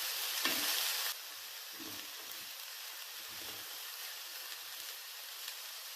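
Marinated eggplant slices fry in a pan over high flame without being deep-fried, a steady close hiss with a brief louder burst at the start and faint soft knocks beneath; no talking.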